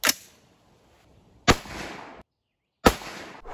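Three sharp, loud gunshot blasts from a .458 SOCOM rifle firing 300-grain bullets at mild steel outdoors, spaced about a second and a half apart, each with a quick decaying echo.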